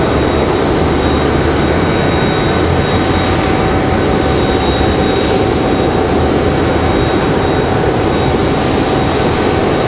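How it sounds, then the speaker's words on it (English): A Copa Airlines Boeing 737-800 jet, arriving at Raleigh-Durham airport from Panama City, makes a loud, even jet-engine roar that stays constant throughout, with no voices. "So we'll see that 737-800 here in a minute. Copa 466 coming in from Panama City, Panama."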